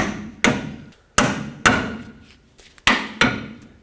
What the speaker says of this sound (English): tap on the knuckle right here until it breaks free